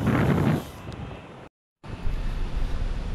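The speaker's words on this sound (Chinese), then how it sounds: "目前的环境的话，风是微风徐徐啊，不会很大" Soft, steady wind rumble buffets a built-in microphone, cutting out to silence for a moment before the low gusty hiss returns.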